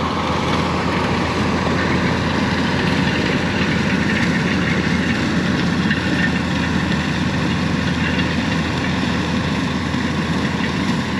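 Tractor pulling a bush hog mower through corn stalks, a loud, constant heavy engine drone with a broad, dense chopping rumble and no clear pauses.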